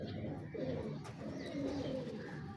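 Breeder pigeons coo softly in a loft, a low continuous murmur of overlapping cooing with occasional wing flutters, close by, and someone speaking faintly in the background.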